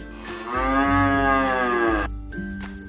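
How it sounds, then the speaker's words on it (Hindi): Buffalo mooing in one long, loud, drawn-out bellow with a strong tonal quality, starting about half a second in and lasting roughly a second and a half, followed by quieter animal sounds. "The next animal is a buffalo"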